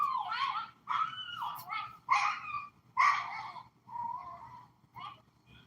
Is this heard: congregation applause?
no